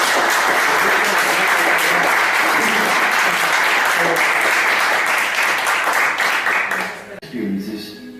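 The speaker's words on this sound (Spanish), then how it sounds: "nos damos un aplauso" Audience applause closing a philosophy café session, a long dense wash of clapping at full strength that tapers off near the end as a voice begins speaking.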